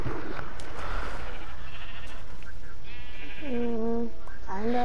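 Sheep bleating in Minecraft, two or three short wavering bleats near the end over a steady game background, with faint talk earlier.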